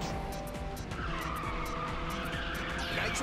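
Tires skidding and squealing as a car drifts in Ridge Racer 6, a continuous loud screech over a roaring race engine, alone without voices.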